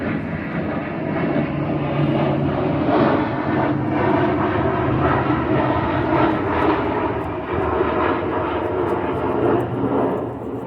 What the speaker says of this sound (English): Is that a air force jet again?